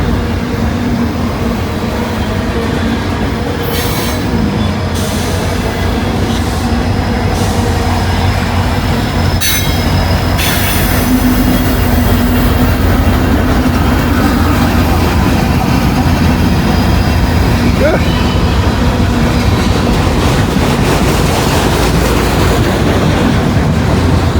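A long freight train, roughly two miles with distributed power units, rumbles past loud and close for the whole stretch. Wheels rumble and rattle steadily, with faint squeals and clanks over a low roar, and no talk.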